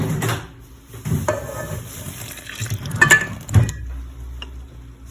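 Frothed yeast mixture for siopao dough is poured into a bowl, giving a short liquid gush with some clinks and handling noises of kitchen utensils in between.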